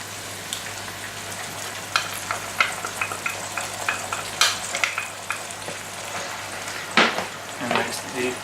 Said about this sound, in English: Basically, what you want is your bacon to be almost crispy, but not exactly.